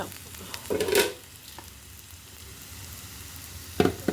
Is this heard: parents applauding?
no